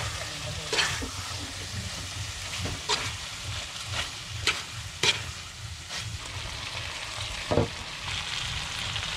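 Jungle snails (buko) cooking in a pan, stirred so the shells give scattered scraping clacks over a constant low sizzle, close and moderately loud.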